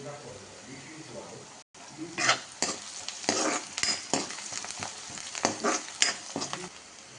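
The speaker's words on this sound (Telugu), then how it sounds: "కలిపేసి ఇప్పుడు పసుపు వేసుకోవాలి" Crab masala curry with onions and curry leaves is stirred in a sizzling pan. Close scraping strokes and crackling frying run steadily with irregular bursts, and someone can be heard speaking.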